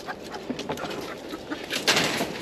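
Soft backyard chicken chatter with a few brief clucks and coos over a low background hum, fairly quiet, with a slightly louder burst near the end.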